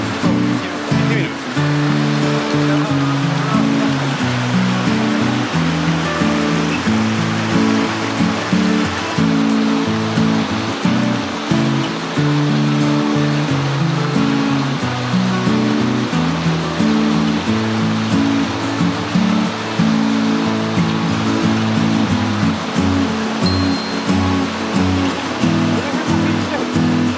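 A mountain stream with a small waterfall rushes during a backpacking trip in a Japanese river valley. A loud, steady roar of water continues close by for the whole stretch.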